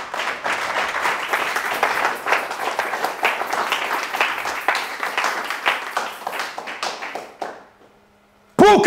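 A church congregation claps to acclaim the Lord, a loud, dense run of rhythmic clapping that fades out near the end before a sudden loud tone cuts in.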